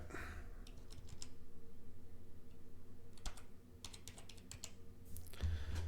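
Computer keyboard typing, a number entered on the keys: irregular bursts of crisp clicks in short clusters, close and moderately loud over a steady low hum, with no talking.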